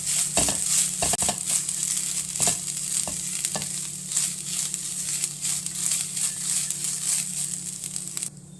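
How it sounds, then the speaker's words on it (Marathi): Grated fresh coconut being sautéed in a pan for modak filling, a soft continuous sizzle with scattered scraping and stirring clicks, fairly close, with no talk. "आता यामध्ये ओला नारळ घालून घेते परतून घेऊया"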